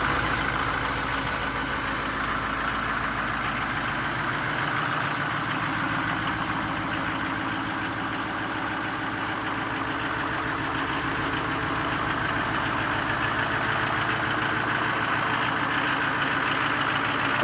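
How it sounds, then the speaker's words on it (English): A 2015 Duramax diesel pickup idles after a -20 degree cold start, its loud, steady low clatter and rumble holding close and constant with no voices. "My Duramax always starts right up."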